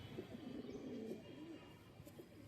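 Pigeons from a fancier's flock in Amravati, Maharashtra, give a faint, continuous low cooing that rises and falls over a couple of seconds, somewhat distant and quiet.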